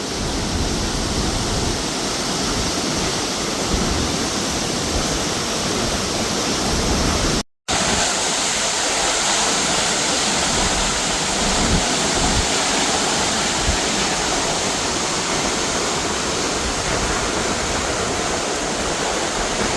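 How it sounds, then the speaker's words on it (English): Vernal Falls on Yosemite's Mist Trail roars as a dense, unbroken wash of falling water, loud and close, with one brief dropout partway through and no voices. "Vernal Falls."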